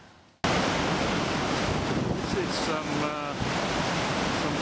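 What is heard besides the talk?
high seas waves around a ship to Antarctica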